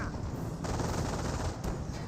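Staghound armored car gunfire in the Company of Heroes battle game, a dense, continuous burst of machine-gun fire with a sharper surge about two-thirds of the way through, loud and close throughout.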